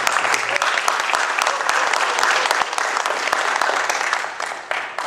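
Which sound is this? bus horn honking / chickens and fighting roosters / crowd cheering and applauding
crowd cheering and applauding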